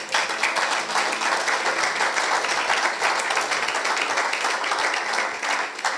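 Church congregation applauding in sustained, dense clapping that carries on steadily throughout, fairly loud and close, with no break.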